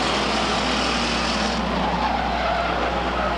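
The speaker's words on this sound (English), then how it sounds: "we've got a spin on the front stretch. 75 car goes around." Stock race car spinning out on the front stretch of Stockton 99 Speedway, a loud sustained tire skid and roar of engines that shifts tone partway through, with no talk.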